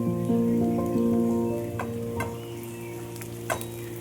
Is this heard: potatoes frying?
yes